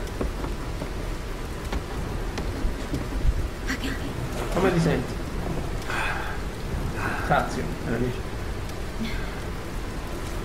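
Steady rain hisses throughout a stormy scene in Tomb Raider Definitive Edition, with faint low thunder rumbles and occasional clatter underneath, while characters talk over it.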